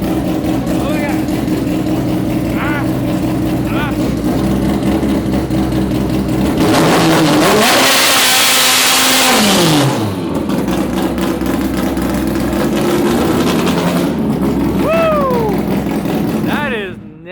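A naturally aspirated Honda-powered drag car making over 500 hp, a 9-second car, revs loudly up close. Sharp rising and falling sweeps build to a roaring peak, with people talking and shouting excitedly over it.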